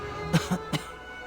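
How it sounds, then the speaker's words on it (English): Three short, raspy coughs in quick succession from a character in the video game AFK Journey, fairly close, over a faint steady background hum. "Maybe something to help with the coughing?"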